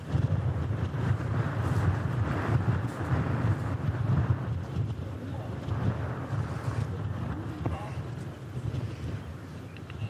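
Strong gusts buffet the microphone on a high hilltop viewpoint, a loud, uneven low roar that rises and falls throughout while a person talks underneath.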